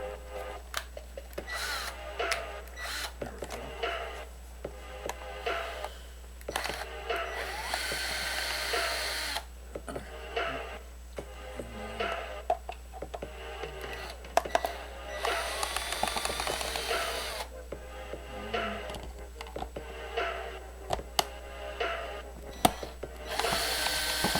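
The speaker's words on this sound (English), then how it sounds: "let me get my handy screwdriver" Small screwdriver backing screws out of the rear case of a Toshiba RT-8700s cassette recorder, giving a run of close, intermittent scraping and whirring bursts with clicks and brief pauses, no talk over it.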